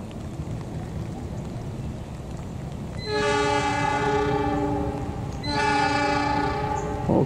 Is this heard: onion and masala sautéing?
no